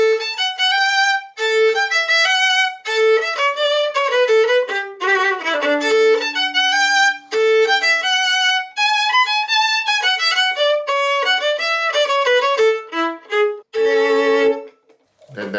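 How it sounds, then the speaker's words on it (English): The A section of the first gavotte from Bach's Orchestral Suite No. 3 plays as a lively, bright melody in clear, busy phrases with short breaks between them, loud and close, with no voices. "So the first gavotte, the A section, sounds like this."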